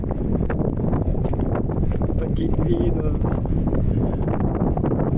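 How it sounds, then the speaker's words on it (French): Strong wind gusts batter the microphone in the small French town of Autun, a steady loud roar and rumble throughout while a person speaks over it. "il y a beaucoup de vent là"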